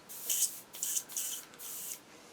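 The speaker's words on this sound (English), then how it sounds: "there's going to be wind noise because I'm using an airbrush" An airbrush sprays paint in four short hissing bursts, each separated by a brief pause, close by and fairly soft.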